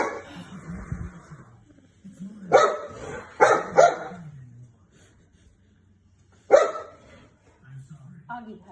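A dog barks several times in sharp bursts, close by, with an adult voice talking softly between and around the barks.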